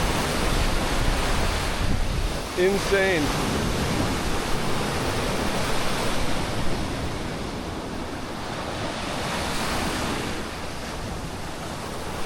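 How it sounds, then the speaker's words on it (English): Ocean surf at night in Playa del Carmen rolls in as a constant broad wash with steady wind noise. A short exclamation from one person cuts through midway. "if you like sleeping to the sound of the waves at night, this is your place right here at Mahikal"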